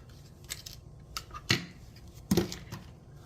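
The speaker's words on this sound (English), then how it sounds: "Maybe I can cut one in here. Hold on. Just cut a little piece in here." Scissors snipping paper for a handmade bubble fish card, a few sharp close crisp cuts spaced apart over a quiet background, no talking.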